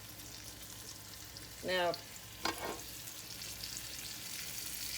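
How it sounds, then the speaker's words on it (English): Battered cube steak sizzles in a hot skillet with a steady, close crackle of frying oil, and a voice briefly speaks over it. "let's go ahead and we're going to add it to the skillet"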